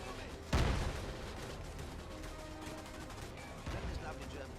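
A grenade blast in the World War II shooter RAID: World War II, one loud boom followed by scattered gunfire and a second smaller blast near the end, with game noise throughout.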